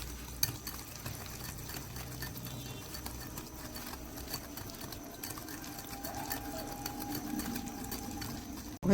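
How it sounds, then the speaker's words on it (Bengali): Cake batter of oil, sugar, baking powder and baking soda being beaten in a bowl, giving a steady, quiet, rapid whirring patter that runs unbroken for several seconds with no voices. "এটাকে আমি খুব ভালো করে প্রথমে ফেটিয়ে নিচ্ছি।"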